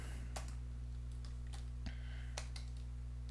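Light, scattered computer keyboard typing with a handful of soft clicks over a steady low electrical hum, fairly quiet and close.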